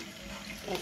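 Water runs quietly from a tap onto a Dove soap bar being lathered by hand, a soft steady trickle with a brief splashy swell near the end.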